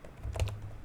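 A short run of computer keyboard typing as a command is entered, a few soft close keystrokes clustered in under a second over faint room hum.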